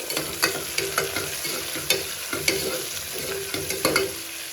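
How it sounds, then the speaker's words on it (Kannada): Onions frying in hot oil for paneer pulao sizzle steadily at close range, punctuated by sharp scraping knocks of a spoon stirring against the pan. "ಈರುಳ್ಳಿನ ಹಾಕ್ಕೊಂಡು ಈರುಳ್ಳಿನ ಚೆನ್ನಾಗಿ ಫ್ರೈ ಮಾಡ್ಕೊಳ್ಬೇಕು."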